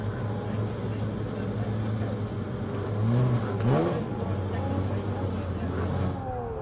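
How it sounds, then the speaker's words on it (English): Racing cars from the M Performance Racing Series rev and accelerate on track at the 2023 Passion for Speed event, a faint, distant engine drone that swells briefly midway beneath a commentator talking. "So cars rolling now"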